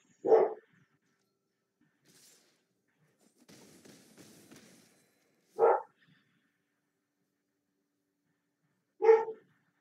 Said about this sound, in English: Dogs are being noisy.